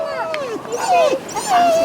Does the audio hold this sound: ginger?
no